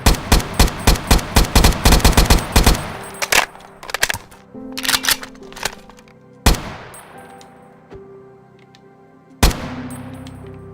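Rapid bursts of automatic gunfire from a modded AK-style rifle in Minecraft Bedrock, a fast run of sharp cracks followed by a few scattered single shots with ringing decay, loud and close.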